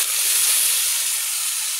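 Water poured into a hot pan for a Bengali fish curry gives a steady, bright sizzling hiss, close and continuous, with no talk over it.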